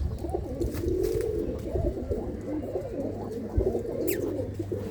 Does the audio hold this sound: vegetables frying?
no